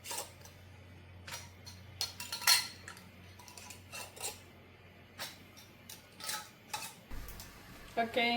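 Metal rims being placed onto glass jars for lilac and redbud jelly: scattered light metallic clinks and taps, irregular and close, over a faint low hum in a quiet kitchen.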